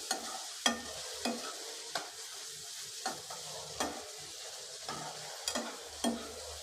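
Vegetables cooking in oil in a pan, a steady sizzle broken by regular clacks of a spoon stirring against the pan, close and moderately loud, with no voices.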